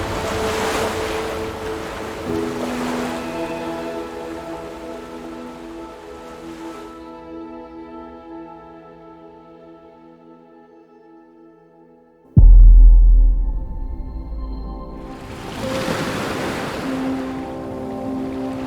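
Broad wash of surf swells and fades over a sustained musical drone, then a heavy low rumble hits and the waves rise again.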